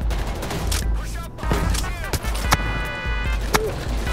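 Sharp gunshots crack out in a bank robbery in Payday 3. Several short bursts are spread through loud game noise, and people talk over them.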